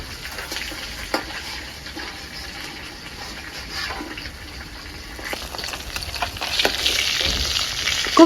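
Pieces of katla fish fry in foaming mustard oil, a loud, continuous crackling sizzle close by that grows busier and more bubbly toward the end.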